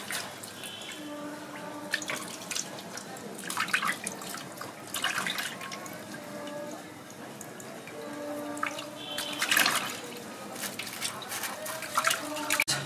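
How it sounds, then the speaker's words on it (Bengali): Pieces of freshly cut rohu-type fish are washed by hand in water in a home kitchen: soft continuous splashing, sloshing and dripping, fairly quiet and close, with a few brief clinks. "মাছ কটা ধুয়ে নিচ্ছি ভালো করে।"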